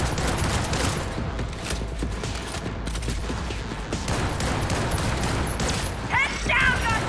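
Rapid rifle fire in Cyberpunk 2077, a fast precision-style rifle: a dense, continuous run of close, loud shots filling the whole stretch, with game sounds mixed in.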